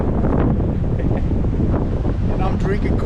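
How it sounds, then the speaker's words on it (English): Strong, cold wind buffeting the microphone at an off-road camp spot, a steady loud roar throughout. "But man, it's cold, it's windy."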